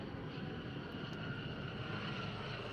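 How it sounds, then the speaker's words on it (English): A helicopter flies overhead somewhere near a railway at Preston, a steady, fairly faint broadband engine roar and rotor wash that holds level throughout with no talk over it. "And here comes a noisy helicopter as well."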